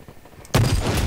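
Gunfire in the video game Blacklight Retribution, a sudden loud burst of shots halfway through that rolls into a dense, sustained rattle after a quieter stretch of background noise.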